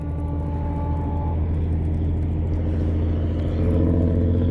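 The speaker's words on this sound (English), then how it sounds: "There's a big truck going over that road back there, and it echoes like crazy on the water." A big truck rumbles along a distant road, its low, steady drone echoing across open water, alone and fairly faint.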